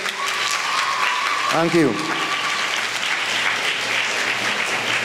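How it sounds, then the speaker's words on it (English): An audience at a Sanfest primary-school competition in Trinidad and Tobago applauds Sacred Heart school in a sustained, even round of clapping, while a brief spoken thanks and a short tonal sweep cut in near the middle. "Let us give Sacred Heart another round of applause."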